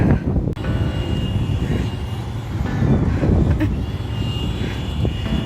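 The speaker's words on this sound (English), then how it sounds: "I'm sure you can hear that noise of trucks, well, machinery." Heavy trucks and machinery working near an RV park on the water along the Columbia River, giving a steady, loud low engine rumble that swells slightly midway and runs continuously with no talk.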